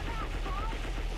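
Gunfire in the Star Fox Assault video game, a dense, continuous burst of rapid shots lasting a little over a second at steady loudness, with faint tonal game sounds running through it.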